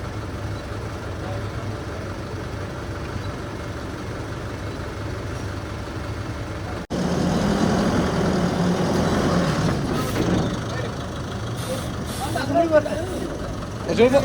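A truck drives onto soil-cement bricks to test how much load they bear, its engine rumbling steadily and growing louder and closer partway through, with people talking nearby.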